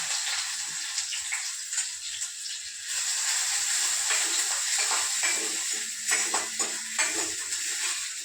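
Chopped onion is tipped into a hot pan of frying garlic for a homemade soup, giving a steady bright sizzle and hiss with occasional soft stirring clicks.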